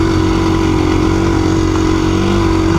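A KTM 350 EXC-F dirt bike engine runs close by with a steady, loud, buzzing drone that holds an even pitch throughout, with no clear rise or fall in revs.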